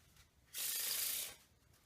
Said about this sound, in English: you shuffle the deck a couple times just to make sure it's really mixed in there.